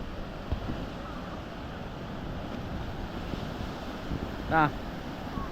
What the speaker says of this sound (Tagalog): mga alon ang laki